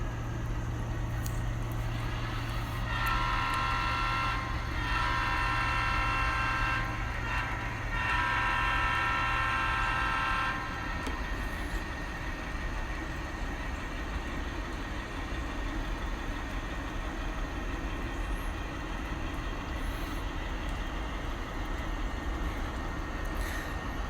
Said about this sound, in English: Using the GP7 with sound, because that's basically my favorite locomotive.